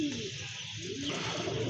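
A pair of Indian red plain pigeons coos in a low, continuous rolling burble, close by and steady against a dense background hiss.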